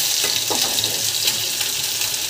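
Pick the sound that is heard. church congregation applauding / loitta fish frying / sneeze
loitta fish frying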